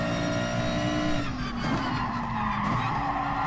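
A race car in GT Sport braking hard into a corner, engine whine dropping in pitch as the tyres squeal and slide, loud and continuous with no talk.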